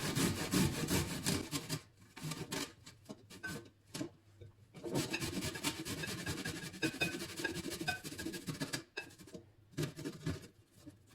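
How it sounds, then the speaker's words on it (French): Garlic cloves being minced with a hand chopper for Moroccan white beans, a rapid scraping, grinding rhythm in long bursts broken by short pauses, close and fairly loud with no talking. "je vais prendre donc un hachoir. Je vais commencer à hacher l'ail."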